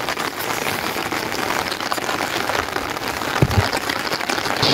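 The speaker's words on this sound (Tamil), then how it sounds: "மழை அடிச்சு கொளுத்த ஆரம்பிச்சுட்டு வீடியோ பண்ணிட்டே இருந்தேன்" Heavy rain pours down steadily in Thoothukudi, Tamil Nadu. The dense, constant hiss of drops hitting surfaces is loud and unbroken from start to finish, with no voices over it.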